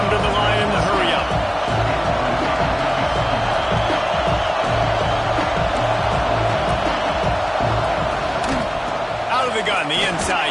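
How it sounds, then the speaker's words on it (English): Dense, steady roar of a large stadium crowd at a West Virginia college football game against Alabama, loud and continuous throughout with a commentator talking over it. "This crowd bringing the energy and noise early."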